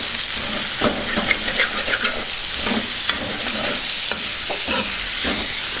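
Capsicum pieces and curry leaves sizzle loudly in hot oil in a pan, with a constant crackling hiss and regular spatula strokes stirring them.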